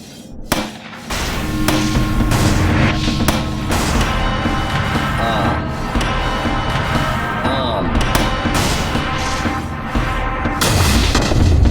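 Gunshots and booms in the video game Dark Dreams fire repeatedly over busy game sound, sharp loud bangs spaced irregularly across the stretch, with someone talking at points.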